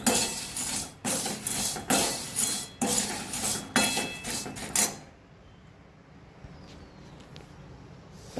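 A spoon clatters and scrapes against a pan as mango seeds roast in about a spoonful of ghee: roughly five seconds of regular, close metallic strokes, then only a faint low hiss.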